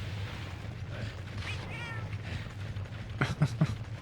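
Cats meow in the Monster Hunter Portable 3rd video game, a few short meows in quick succession near the end over a steady low game background hum.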